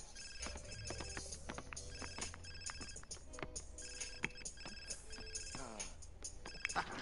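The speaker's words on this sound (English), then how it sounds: "Somebody's phone is ringing." A phone rings inside a life-simulation video game, a quiet electronic ringtone of repeating tonal beeps that sounds throughout over faint background game noise.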